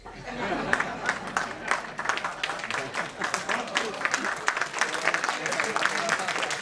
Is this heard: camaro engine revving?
no